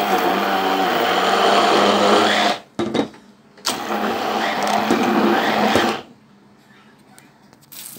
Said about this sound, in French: vous prenez votre batteur et vous allez mélanger le tout.